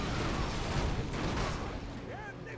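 Mortars firing in a NetEase strategy game, heard as a dense, continuous rumble of booming shots that stays loud for the whole moment before easing off slightly at the end.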